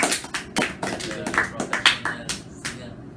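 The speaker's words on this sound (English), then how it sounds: "Round of applause for him" A small group gives a brief round of applause for a video editor, a few sparse, uneven claps and taps close by, mixed with light voices.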